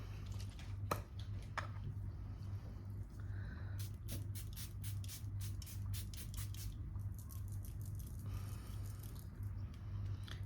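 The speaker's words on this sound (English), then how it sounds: "I am using this Airbrush Flawless Setting Spray by Charlotte Tilbury." A Charlotte Tilbury Airbrush Flawless Setting Spray mists onto a face in quick, soft hissing bursts, a rapid series of short sprays clustered together over a faint background hum.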